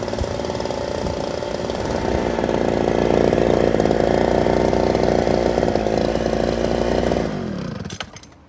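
A small two-stroke engine on a Homelite Ryobi leaf blower runs close and loud with a steady buzzing drone that swells slightly, holds, then winds down and cuts off near the end.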